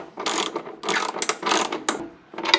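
A ratchet fitted with a 13mm socket snugs running board bolts on a Chevrolet Silverado, producing several quick, close clicking bursts of the pawl separated by short pauses.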